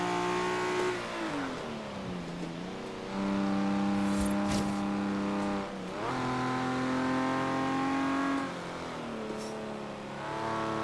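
Nissan Skyline HT 2000GT-R engine in a classic-car race in Forza Horizon 3, revving up through gears with rising whines and shift dips, steady mid-pitched drone between.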